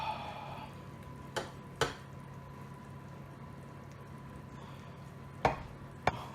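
A knife slices through a baked lasagne, giving a few sharp, close cuts and scrapes against the dish, separated by quiet pauses with faint kitchen hum behind.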